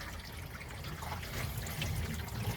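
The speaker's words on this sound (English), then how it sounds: "It's dripping into this plug right here." Water drips and trickles into an amplifier plug inside a Lexus trunk, leaking in past a seal. The trickle is faint and steady against a low background hum, with no one speaking.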